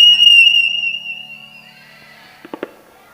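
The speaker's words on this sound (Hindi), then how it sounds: "कौन सीटी मारो तो भाई" A person whistles one loud, sustained high note that slowly fades, then a few sharp clicks follow near the end.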